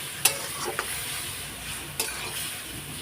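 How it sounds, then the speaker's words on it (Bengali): Spices sauté in a pan with a splash of water, a soft continuous sizzle broken by a few crisp spatula scrapes and taps close by. "সব এক এক করে মশলা এখন কষিয়ে নেবো"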